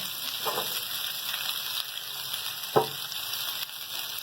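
Cut okra sizzles and fries steadily in a large frying pan, a continuous near hiss with occasional louder crackles and stirring scrapes.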